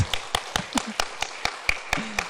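A church congregation at a Sunday worship service claps in a quiet, even rhythm, about ten distinct claps spaced roughly a quarter second apart.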